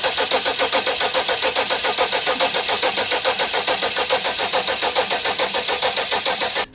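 A high-mileage Audi A6 Allroad engine cranks and runs, a steady rhythmic mid-pitched churning with regular pulses throughout, close and alone without voices.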